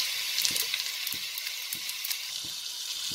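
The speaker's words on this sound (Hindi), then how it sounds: "जीरा तड़कने लगा है" Whole cumin seeds crackle and sizzle in hot butter and oil for a pav bhaji base, a steady bright fry with scattered small pops close by and no talking.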